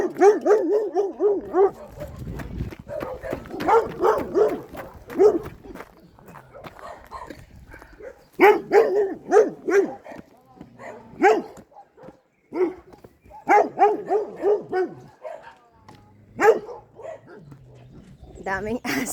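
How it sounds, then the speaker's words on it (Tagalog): Several dogs bark repeatedly near a house with a flower garden close to Beauvais, Paris, their barks sounding over people talking. "Daming aso."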